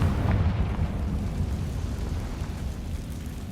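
A Confringo spell blast in Hogwarts Legacy makes a deep, rumbling explosive roar that starts strong and fades into a sustained low-heavy wash, loud and alone with no voices.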